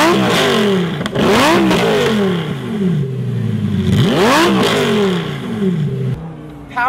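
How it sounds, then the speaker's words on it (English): A Lamborghini Gallardo's 5-liter V10 revving hard twice, rising and falling in pitch with a loud roar, then idling with a rough growl between revs. "deafen all bystanders as its 5-liter V10 revved to its"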